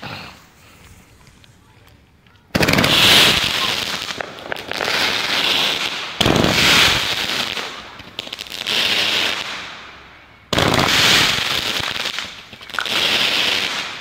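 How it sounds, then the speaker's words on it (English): A Kingbird Fireworks Snowball Fight consumer firework cake goes off in three loud, sharp bursts a few seconds apart, each followed by a trailing crackle and fizz, heard close up outdoors. "This is called Snowball Fight. Kingbird Fireworks."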